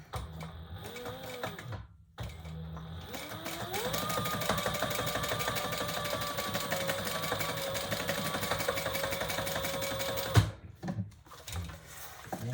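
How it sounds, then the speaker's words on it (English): Sewing machine stitching a seam on a leather wallet, starting with a few short bursts, then a steady rapid mechanical rattle for several seconds before stopping, close and moderately quiet. "All right, then we're going to stitch up that line."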